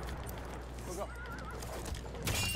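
A horse whinnies in the video game Battlefield 1, with one wavering neigh rising over a low rumble of battlefield ambience, followed by a few hoof thuds near the end.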